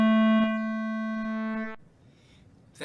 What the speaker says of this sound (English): I'm going to add a distortion effect and increase the cutoff of a low-pass filter, which will make our sound crunchier